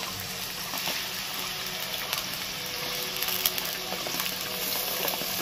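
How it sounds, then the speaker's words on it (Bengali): Diced pointed gourd and potatoes fry together in oil in a kadai, giving a steady, continuous sizzle and crackle with small pops, close and even throughout, with no talking. "পটল আলু দুটো একসাথে ভাজবো, আলাদা ভাজার দরকার হবে না।"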